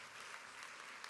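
Steady clapping from a large convocation audience fills a hall, a dense continuous wash of applause lasting about a second with no talk over it.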